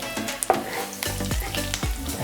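Whole spices (cinnamon, cloves, cardamom and bay leaf) sizzle in hot oil in a pan, with repeated scraping stirs at a steady pace, close and clear with no talking.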